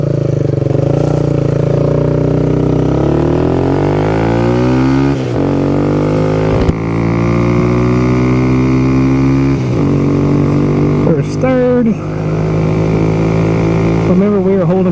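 A Kawasaki Z125 Pro motorcycle fitted with an O2 eliminator pulls hard through its gears, the small engine's loud, close whine rising steadily in pitch with each gear, then dropping briefly at every shift before climbing again.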